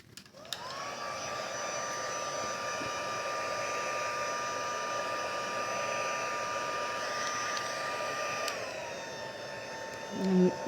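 A heat tool blows hot air onto a paper Halloween card, a steady loud whirring drone that holds for several seconds, then drops in pitch as it shuts off, followed by a brief handling clatter.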